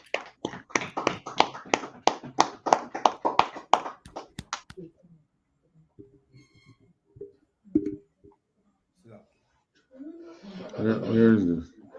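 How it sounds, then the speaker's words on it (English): An audience at a temple re-dedication service claps in a steady rhythmic burst for about four seconds, then falls quiet as people begin talking. "All right, clap it up."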